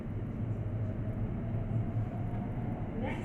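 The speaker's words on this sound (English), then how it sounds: "This is the train to Abbey Wood via Canary Wharf." Steady low rumble and rattle inside a moving London train bound for Abbey Wood via Canary Wharf, a continuous interior running noise with no voices.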